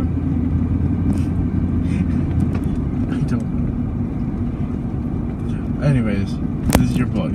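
Steady road rumble and engine hum from inside a moving car, continuous and loud throughout, with someone talking over it and a brief sharp click near the end.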